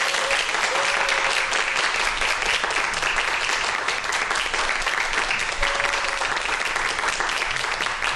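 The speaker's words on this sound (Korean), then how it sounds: "박수 부탁드릴게요." An audience applauds loudly and steadily at a televised science lecture as the professor is welcomed onto the stage, a dense, continuous clapping that lasts the whole stretch without a break.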